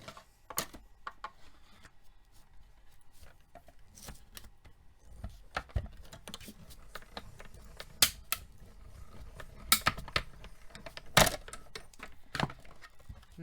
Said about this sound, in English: those crackle sounds, nothing to be alarmed about. It's just the paper breaking.